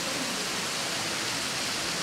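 A fresh-water stream pours into a lake at Swaik Lake, Kalar Kahar, Pakistan, a dense, steady rushing wash of water that sounds close and continuous with no voices over it.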